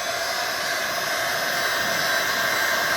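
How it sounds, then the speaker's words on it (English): A heat gun blows steadily and loudly up close, a constant hissing roar of hot air aimed at sanded whitish plastic on a 1992 Mustang GT interior part, with no speech. "heat it up until it's turning color"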